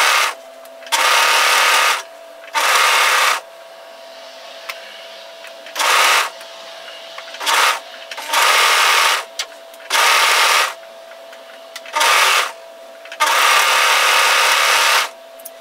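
An overlocker serger stitches and trims fraying fabric edges with its blade while sewing a flutter sleeve top, running in about nine loud bursts of steady whirring and chattering, each a second or so long, separated by near-quiet pauses.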